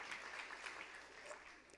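An audience at a music conference applauding, a faint, dense wash of clapping that runs steadily throughout with no clear voices over it.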